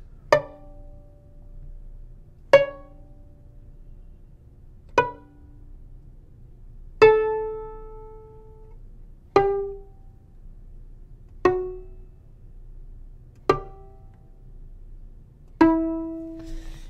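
Eight single plucked violin strings, each a sharp twang that rings and decays, spaced about two seconds apart at different pitches, with faint background hum.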